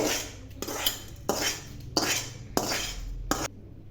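Fried vermicelli scraped and tipped from a kadai onto a plate, with a metal spatula clattering against the pan in five short bursts of scraping and clinking, close by.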